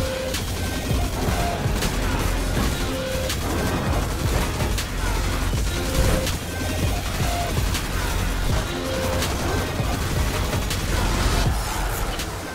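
The Huckleberry submachine gun in Destiny 2 fires continuously in a dense, loud stream of rapid shots with occasional heavier impacts and crashes, sustained throughout with no talking.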